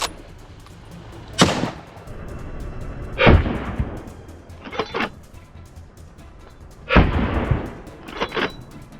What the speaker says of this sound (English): Gunshots rang out, one after another, and the targets dropped like dominoes.